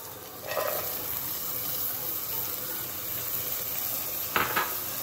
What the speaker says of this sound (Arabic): ذوبوا السمن نتاعنا ونضيفوا البصل نتاعنا.